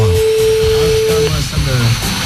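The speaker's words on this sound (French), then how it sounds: "j'arrive avec mon aspirateur rose bonbon" A pink vacuum cleaner runs loud and close with a steady whine and motor roar throughout, its tone shifting slightly partway through, while voices talk over it.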